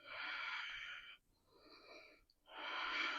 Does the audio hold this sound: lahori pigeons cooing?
no